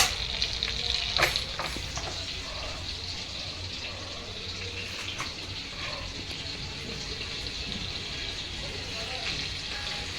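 Butter sizzles steadily in a frying pan on a home stove while an egg-and-rice dish is made, a constant close hiss with a few brief clinks near the start.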